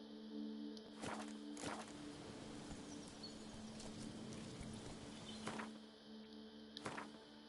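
Roach the horse walks in The Witcher 3 set in Toussaint, a steady clip-clop of hooves on the ground with faint birds and insects in the background.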